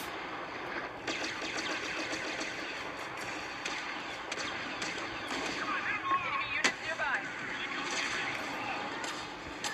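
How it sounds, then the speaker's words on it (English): Blaster shots ring out in a Star Wars video game, a series of sharp bursts and crackling hits scattered over a rumbling battle background at moderate loudness, with faint voices in the mix. "Han Solo just made a lucky shot."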